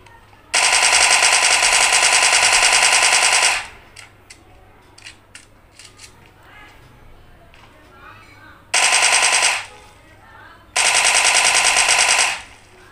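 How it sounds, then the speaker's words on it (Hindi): A Thompson submachine gun in PUBG Mobile fires three long, loud automatic bursts with dense rapid rattling. Quieter game sounds and faint talk fill the gaps between bursts. "वैसे मेरी फेवरेट गन टॉमी है, मैं थॉमसन को चलाता हूँ"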